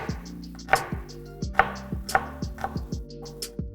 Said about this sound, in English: So we're gonna cut the onions.